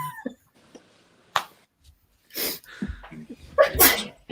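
A single sharp sneeze bursts out, fairly close and loud, among scattered voices and small noises in an online group session.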